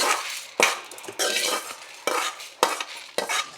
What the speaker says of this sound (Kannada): ಇದನ್ನ ಒಂದು ಪಾತ್ರೆಗೆ ತಣಿಯೋದಕ್ಕೆ ಹಾಕಿ, ಈ ರೀತಿಯಾಗಿ ತಣಿಯೋದಕ್ಕೆ ಒಂದು ಪಾತ್ರೆಗೆ ಹಾಕಿ ಇಡಿ.